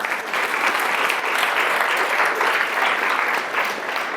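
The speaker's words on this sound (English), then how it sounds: "I'll applaud you." An audience at a Q&A following a speech at the London School of Economics applauds steadily and loudly, dense clapping sustained throughout without pause.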